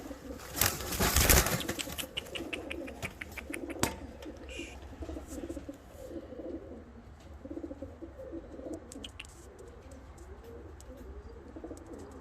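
Fancy and costume pigeons coo steadily at close range, with a burst of wing flapping near the start and scattered rustles and taps around the birds.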